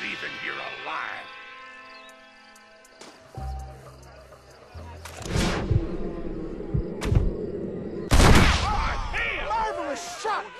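Gunshots in Red Dead Redemption, a few sharp reports amid game ambience and music, with speaking voices in the mix.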